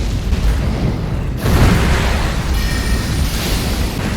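Boss attack explosions in the Elden Ring video game, a dense, continuous roar of booming blasts with a sharp surge partway through, loud and sustained.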